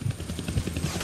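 Helicopter in the Deadpool video game, a low rumbling rotor throb with rhythmic thumping pulses and a broad hissing wash, steady and moderately loud over about a second.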